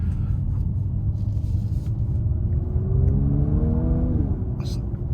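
A 2019 Mercedes-AMG GLC 43 accelerates in Sport Plus mode, its engine note climbing steadily under constant cabin rumble before a quick, aggressive upshift drops the pitch; heard from inside while driving.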